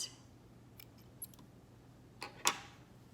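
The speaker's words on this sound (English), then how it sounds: "now I can go ahead and cut my yarn" Yarn snipped with scissors after finishing a crocheted starfish, giving a few faint, sharp clicks, the loudest cut near the end, over a quiet background hum.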